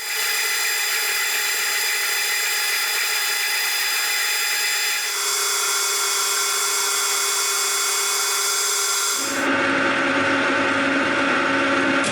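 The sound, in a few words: machine cutting metal gear teeth with a grooving tool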